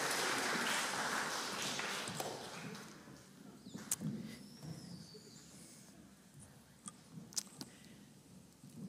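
A church congregation applauding, loudest at the start and then fading into scattered claps and shuffling as the clapping dies away.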